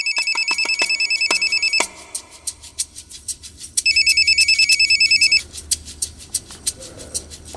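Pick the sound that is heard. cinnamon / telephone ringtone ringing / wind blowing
telephone ringtone ringing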